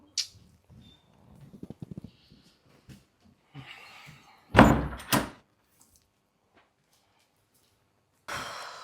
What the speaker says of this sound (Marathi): दरवाजा उघडच केला मूर्खाने